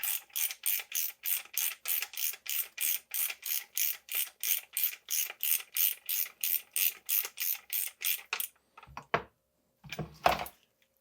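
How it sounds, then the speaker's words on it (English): A torque wrench ratchets steadily while tightening bolts on a RockShox SID Select 35 suspension fork during a full service, a long run of about twenty-five even clicks close up, followed by a few scattered handling clunks. "Torque wrench,"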